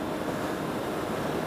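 Strong wind buffets the microphone outdoors beside a Triumph Thundercat motorcycle, a steady broadband rush and rumble with no voices.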